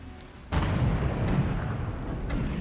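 Artillery fired in a video game: a single heavy boom erupts, then a sustained loud low rumble rolls on under scattered faint crackles.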